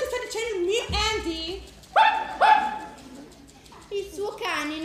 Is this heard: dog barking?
yes